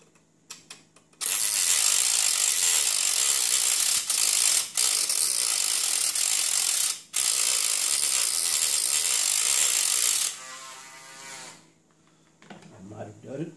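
A loud, sustained grinding of a tool cutting metal on the chassis of a Meade LX90GPS telescope runs for about nine seconds with brief breaks, then stops, followed by quieter handling sounds and someone speaking.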